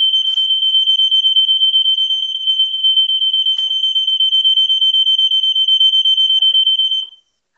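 A smoke alarm set off by something burning sounds a rapid, piercing high-pitched beeping that repeats continuously for about seven seconds, then stops.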